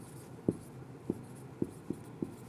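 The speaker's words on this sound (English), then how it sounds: "Now we will write that example." Handwriting on a page for an English lesson example: five short, distinct pen strokes tap out at roughly even intervals over a quiet background, with no talking.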